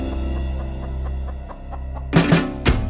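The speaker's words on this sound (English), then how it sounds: "There's a rooster down here." A rooster at a Jamaican food spot gives a few short bursts of clucking near the end, close and loud over a steady hum and rhythmic background music.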